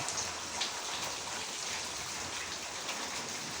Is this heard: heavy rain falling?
yes